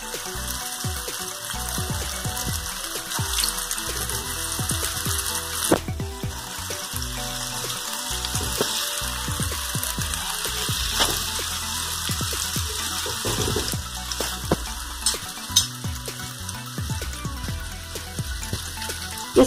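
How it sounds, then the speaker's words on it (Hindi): Dahi vada batter balls deep frying in hot oil, a steady dense sizzle and crackle that runs without pause, with occasional sharper pops and soft clinks near the pan and no talk. "इसे हम गोल्डन ब्राउन होने तक डीप फ्राई करेंगे।"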